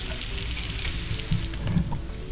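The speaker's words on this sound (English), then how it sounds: "the tuna will get a nice little sear on there and still be raw in the middle" Tuna sizzles as it sears in hot oil, a steady, fairly quiet frying hiss with a few brief pops and crackles. No voices are heard.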